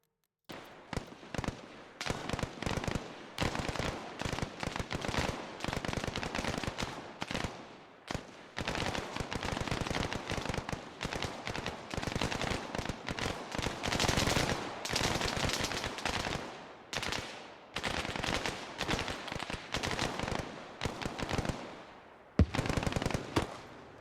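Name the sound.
gunfire in ARMA video game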